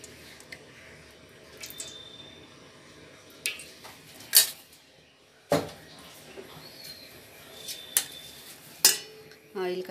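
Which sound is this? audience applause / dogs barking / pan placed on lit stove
pan placed on lit stove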